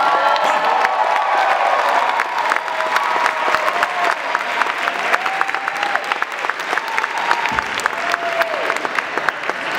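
Audience applause for a singer at a live concert, a loud dense wash of clapping lasting throughout, with scattered cheers and whoops rising over it.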